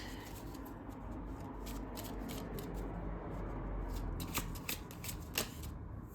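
Tarot cards are shuffled steadily and close up until one falls out, a continuous papery rustle over a low background hum, with faint bird-like cooing in the distance and no voices.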